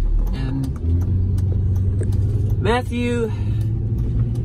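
Car driving through town toward a downtown playground by the river, a steady low engine and road rumble inside the cabin while a person talks over it.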